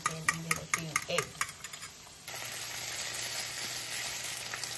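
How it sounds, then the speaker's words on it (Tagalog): Potatoes and egg fry in a pan, first some clattering and scraping, then a bright steady sizzle that holds at moderate level once the ingredients hit the hot oil. "Ngayon patatas natin. And then ito yung egg."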